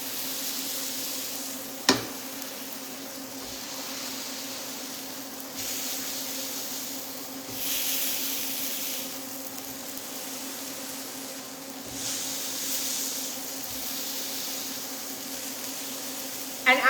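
A flatbread wrap pressed with lamb mince fries in lamb fat for a Turkish smash wrap, giving a loud, steady sizzle and hiss throughout, with a sharp clack near the start.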